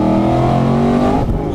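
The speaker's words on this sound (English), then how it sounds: "Okay, first gear pull here." Supercharged 2016 Ford Mustang GT pulling hard in first gear on a canyon road, a loud steady engine roar with rising harmonics for about a second before easing off near the end.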